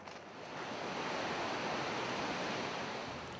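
Steady broadband roar of Yosemite Falls, one of the world's tallest waterfalls at over 2,400 feet, rising after a brief moment and holding as a continuous wash of falling water with no voices.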